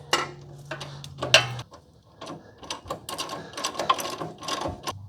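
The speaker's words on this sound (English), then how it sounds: "I've got a 19 on my ratchet and a 19 end wrench on the nut" A ratchet and a 19 mm end wrench tighten a nut during a budget lift on a third-generation 4Runner, producing short bursts of clicking ratchet strokes with metallic clinks and pauses between them, close by.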